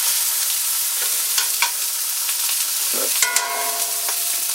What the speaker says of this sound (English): I'm not trying to cook this all the way through. I'm just trying to brown it.